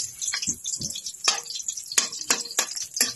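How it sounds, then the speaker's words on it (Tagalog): Green beans sauté in a hot pan with a light crackling sizzle and several short bursts from stirring and tossing, close and alone. "So, gisa-gisa lang tayo."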